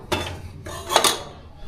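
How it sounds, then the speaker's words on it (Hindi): Metal cooking pots and dishes are set down and stacked in a home kitchen, giving two clattering bursts of clinks and knocks close by with a quieter scrape between them. "पहले तो इन बर्तनों को रख लूँ मैं ऊपर"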